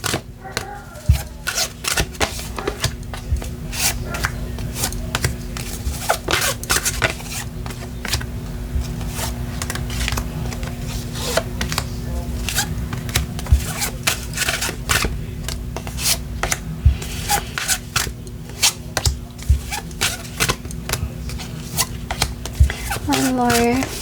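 Tarot cards are shuffled over and over in quick riffling bursts, close up, with soft flicks and slaps repeating throughout.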